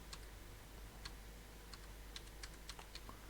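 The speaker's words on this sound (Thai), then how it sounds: "เราก็ลองพิมพ์เข้าไปดูนะครับ" Quiet, irregular clicks of keys being typed on a computer keyboard, a short burst of separate keystrokes with no talking.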